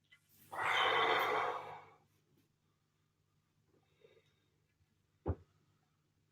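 One long deep exhale, close and soft, during a lower-body stretching workout, followed by near silence and a single brief thump.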